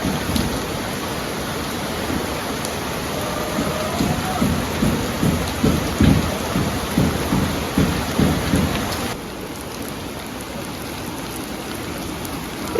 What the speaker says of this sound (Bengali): কত সুন্দর বৃষ্টি হইতেছে বৃষ্টি আর বৃষ্টি